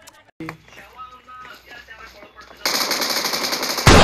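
BGMI video game gunfire bursts out loud and rapid, with a machine-gun rattle that grows denser and louder toward the end after a stretch of voice and softer game sounds.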